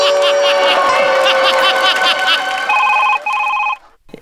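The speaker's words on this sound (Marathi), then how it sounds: "सर 1 मिनिट मला फोन आला सर" A telephone rings with steady repeated electronic bursts, loud and close, before cutting off near the end, with voices talking over part of it.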